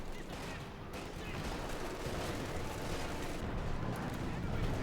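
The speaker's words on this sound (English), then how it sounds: "More mortar fire than the 50 cal." Mortar fire rumbles through a Company of Heroes 2 battle between Wehrmacht and US forces, a dense, continuous barrage of booms and gunfire mixed with other combat noise and a faint voice over it.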